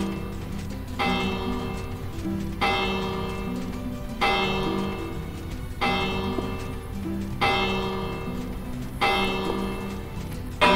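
Many Minecraft bells wired to a redstone clock ring together in a video game, clanging in a steady repeating pattern of strikes roughly every second and a half, each with a bright ringing tail.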